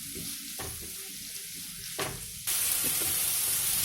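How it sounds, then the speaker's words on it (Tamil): Tomatoes sprinkled with salt sauté in a pan for a prawn fry, giving a steady close sizzle that jumps louder midway, with occasional stirring scrapes and no voices. "ஸோ தக்காளி நல்லா வதங்கிருச்சு"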